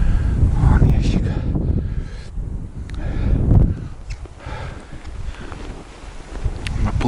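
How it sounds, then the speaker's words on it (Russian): Strong wind gusting across an open field near a marsh and a cleared forest patch, roaring and buffeting the microphone in loud, uneven surges with no break. "Ух, ветрище-то какое здесь."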